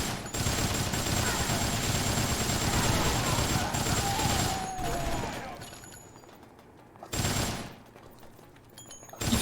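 Sustained machine gun fire from the video game Dead Rising, a loud, dense and continuous stream of rapid shots that tapers off, then one brief burst returns near the end.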